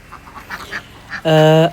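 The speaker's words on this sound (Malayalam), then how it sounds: "നമ്മൾ വളർത്തുന്നതാണ് നമ്മുടെ കോഴിയും താറാവുകളും ഒക്കെയാണ് ഇത്" Domestic ducks kept at a home in Kuttanad give one loud, nasal, sustained quack up close, after a quiet stretch with faint background rustling.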